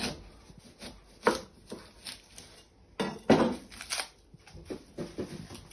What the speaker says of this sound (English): You first want to chop your ends off